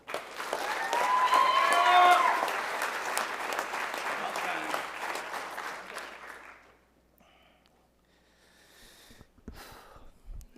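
Audience applause at a spring ROTC commissioning ceremony, loud sustained clapping with a few cheers that builds, then fades out around the seventh second, followed by near quiet and faint rustling.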